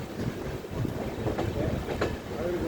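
A train travelling through south India, heard from on board as a continuous rumbling roll with irregular clickety-clack wheel beats. Close and steady, with no talking.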